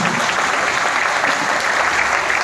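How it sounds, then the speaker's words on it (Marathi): Audience applause after a children's play, dense and loud clapping that stays steady throughout with no voices on top. "टाळ्या वाजवायच्या"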